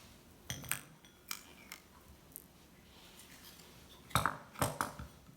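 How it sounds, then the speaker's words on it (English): A scoop digging into vegan mocha ice cream in a Ninja Creami tub, with sharp, close scraping and clinking strokes in irregular bursts and quiet pauses between. "all we need to do now is do the scoop"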